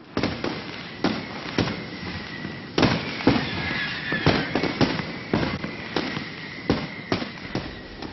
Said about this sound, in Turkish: Havai fişekleri seyretmeyi çok severim.